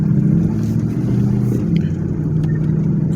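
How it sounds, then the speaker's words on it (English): A high-mileage LS1 F-Body car drives along, its noisy differentials and engine making a steady low road rumble and drone inside the cabin, with small bumps and rattles now and then. "I think the noise that you might hear is, going over bumpy roads, and also the diffs are noisy in these cars"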